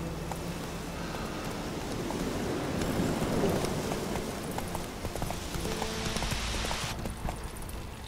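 Roach the horse galloping in The Witcher 3, a dense continuous drumming of hooves under steady ambient rain-like noise, with no talk.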